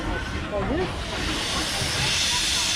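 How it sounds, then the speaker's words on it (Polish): A loud, sustained hiss of steam rushes out nearby from steam locomotive Pt47-65, rising toward the end, while people talk underneath at a steam locomotive gala. "Patrz jak para bucha."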